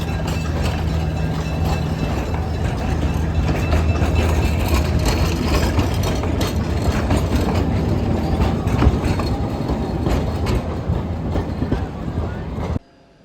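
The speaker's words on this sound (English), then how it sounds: "It's called the Plymouth Locomotive. It's number 40." Plymouth locomotive #40 at Roaring Camp hauls a long train, its engine rumbling low and steady as the wagons roll and clatter past nearby, with a voice talking over it before it cuts off abruptly.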